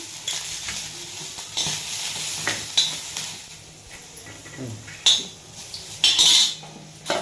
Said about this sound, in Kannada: ಇದನ್ನು ಸಹ ಟೊಮೊಟೊನ ಉರಿಬೇಕು, ಫ್ರೈ ಮಾಡಬೇಕು